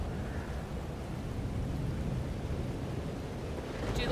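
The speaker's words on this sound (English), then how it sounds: "Oh god, it's the storm." Storm thunder in the video game Life is Strange: Double Exposure: a steady, loud low rumble with broadband wash continues throughout, alone with no talk, swelling slightly near the end.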